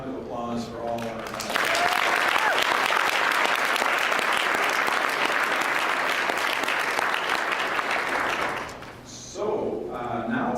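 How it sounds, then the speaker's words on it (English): A talk-show-style audience breaks into sustained, dense applause for about seven seconds, with voices talking briefly before it starts and again as it fades. "how about a warm round of applause for all our"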